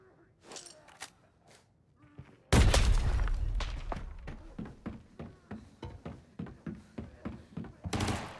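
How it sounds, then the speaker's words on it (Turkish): A grenade explodes in the shooter game Arena Breakout, a sudden loud close boom that rumbles and decays, followed by a run of sharp rhythmic gunshots, with quiet talk before the blast. "Bomba atıyor."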